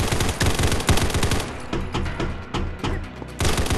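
Rapid bursts of RPK machine gun fire in the shooter game Combat Masters, loud and close, with dense repeated shots in several sustained strings and short gaps between them.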